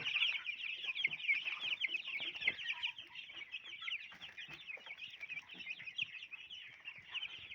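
Young Cobb 500 broiler chicks lined up drinking water, their dense, continuous high chirping and clucking filling the space steadily, close and moderately loud with no talk.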